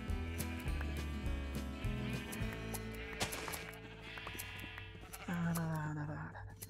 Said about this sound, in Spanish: Que parecen monjas esas ovejas, así con la lana negra